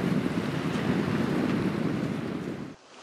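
Waves roll onto a shallow, clear-water shore at a rocky headland, a loud continuous roar of surf and wind that suddenly drops away near the end.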